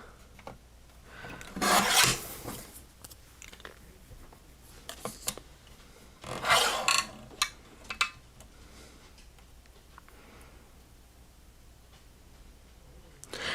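Card paper being trimmed for crafting at a desk, giving two strong rasping cutting strokes and a few lighter scrapes and taps, fairly close, with quiet room tone between.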